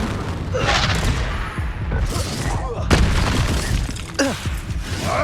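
Blasting spell explosions and combat effects from the Hogwarts Legacy video game, a loud dense run of booms, cracks and shattering bursts, with a sharp impact near the middle.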